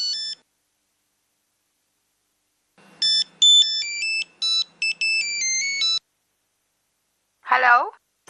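A mobile phone ringtone plays a bright, melodic sequence of electronic tones for about three seconds, loud and close, preceded by a short beep and followed by a brief voice.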